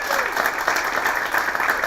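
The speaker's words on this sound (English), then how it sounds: "give her a round of applause right now." An audience at a university wall unveiling breaks into a steady round of applause, dense clapping from a crowd that holds evenly for a couple of seconds.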